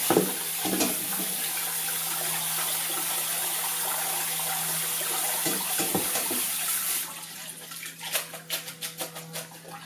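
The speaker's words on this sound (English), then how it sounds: "we put lots of salt on the beans, so we're going to rinse that out now" Tap water runs steadily into a sink as salted beans are rinsed, a loud continuous gush for about seven seconds that then cuts off, leaving a few drips and splashes.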